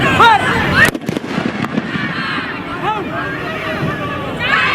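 Gunfire-like bangs from a police riot-control mock drill ahead of the Ayodhya verdict, with a sharp loud report near the start over constant wind buffeting and crowd babble, plus a whistling tone and shouted voices throughout.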